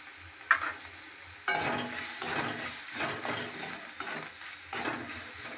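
Aloo paratha filling of boiled potato and chopped green chili, salted and frying in a pan, with a steady sizzle and repeated spatula scraping and stirring strokes, no voices.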